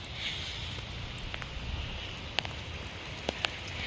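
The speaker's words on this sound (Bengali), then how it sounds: "দেখো আমি ছাদে চলে এসেছি আর প্রচুর বৃষ্টি হচ্ছে" Heavy rain on a rooftop, a soft continuous wash of rain with a few sharper drip or splash ticks, fairly quiet and without talking.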